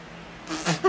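A cat gives a short meow near the end, preceded by a burst of rustling noise; brief and fairly close, with no talking.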